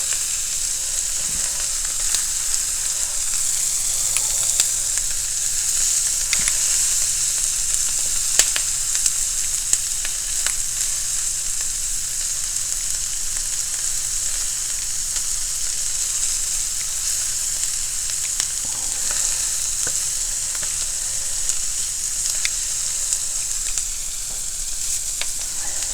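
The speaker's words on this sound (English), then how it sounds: "I like the taste of the sear that you get from frying them a little bit" Steady, crackling sizzle of zucchini and pork rind meatballs searing in a hot pan, continuous and fairly close, with occasional sharper pops and no voices.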